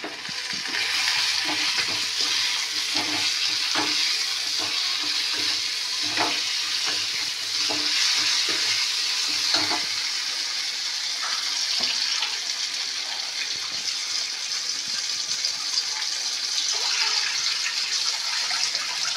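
Potatoes fry in a pan with onion and garlic, a loud, continuous sizzle with occasional sharper crackles and stirring scrapes throughout.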